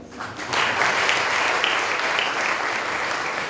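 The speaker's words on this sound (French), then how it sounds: "Acclamez-vous les jeunes." Steady crowd applause for the young people at a French-speaking church anniversary gathering, building up after half a second and continuing loud and sustained throughout.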